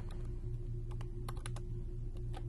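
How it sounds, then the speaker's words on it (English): Rapid clicking of keys on a computer keyboard as an item list for an online auction is typed, several irregular bursts of close keystrokes over a steady low background hum. "And you would continue typing out what is in the unit."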